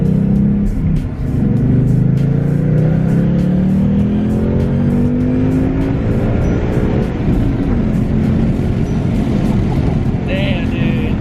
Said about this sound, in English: he's gonna hit a little second gear pull.